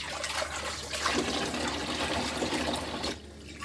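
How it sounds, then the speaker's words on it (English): Water pours steadily into a pot with a full, splashing rush that lasts a few seconds before easing off near the end. "put the water in"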